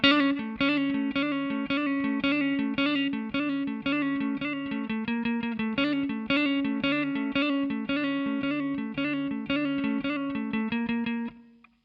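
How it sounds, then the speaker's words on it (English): Two distorted electric guitars play a song's riff with a harmony line, a repeating, evenly pulsed pattern of chugging notes at moderate volume, alone without speech. "then there's a harmony guitar playing along with it, and that sounds like this."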